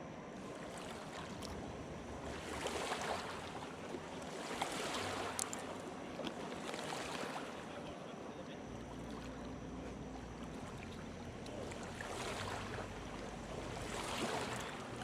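Waves lap softly and repeatedly near a kayak stealth campsite at night, faint rhythmic washes every couple of seconds over a low, steady background hiss.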